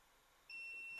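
A multimeter in continuity mode gives a steady high electronic beep that starts abruptly halfway through and holds constant while a faulty capacitor is tested; very quiet surroundings, no talk.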